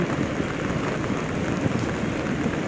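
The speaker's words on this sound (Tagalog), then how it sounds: "Walang tigil ang ulan." Heavy rain pouring without let-up on the way to work, a dense, constant hiss that stays loud and even throughout with no voices.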